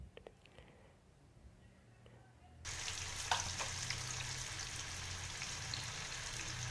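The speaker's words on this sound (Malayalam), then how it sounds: "എണ്ണ നന്നായിട്ട് ചൂടായതിന് ശേഷം ഓരോ പീസ് മീൻ നമുക്കിതിലേക്കിട്ട് ഫ്രൈ ചെയ്തെടുക്കാം" Fish pieces dropped into hot oil in a pan for a Kerala-style fish fry, a quiet start giving way to a loud, sustained sizzle and crackle close by.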